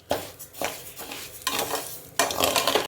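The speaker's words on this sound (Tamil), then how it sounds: "பாஸ்மதி ரைஸும் வறுத்தணும் நல்லா. நல்லா வறுக்கணும்." Basmati rice is stirred and fried in a pan for a vegetarian brinji rice, with bursts of scraping and rattling grains against metal and a soft sizzle between strokes, close and fairly loud.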